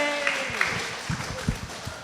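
Live theater audience at the Coalition Theater in Richmond clapping and cheering during a podcast taping, a steady crowd wash with voices calling out over it.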